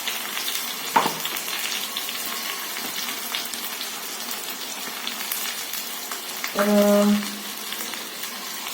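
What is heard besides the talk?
tomato puree sautéing in a pan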